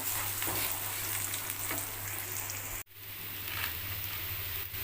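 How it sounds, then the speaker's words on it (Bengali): Ground dal paste sautéed and stirred in a pan for radhaballabhi, a dense steady frying hiss with faint scraping strokes, cut by a momentary break before the sizzle resumes. "সবটা ভালো করে আমি কষিয়ে নেব"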